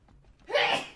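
A single sharp sneeze bursts out after a brief quiet intake of breath, close and loud.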